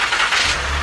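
A freshly rebuilt car engine catches and starts, its mid-pitched rumble settling into a steady, fairly quiet idle over less than a second, heard close and alone.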